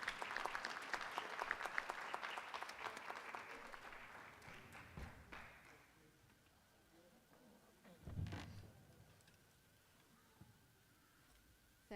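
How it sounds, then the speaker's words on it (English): An audience at a school board meeting claps for a Viking Excellence Award winner, the applause loud at first, then thinning and trailing off into scattered claps and room noise, with a brief murmur later. "One more round of applause for our Viking Excellence Award winner."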